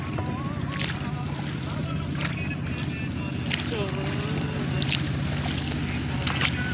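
A small wooden dinghy rows along a river on a late afternoon, with soft water and hull sounds running steadily beneath voices and music close by.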